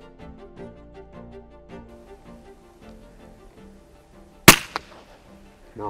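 A single sharp, close rimfire rifle shot cracks out during a wallaby hunt in New Zealand, a brief loud report over a quiet outdoor background with faint ambient hum and no talking.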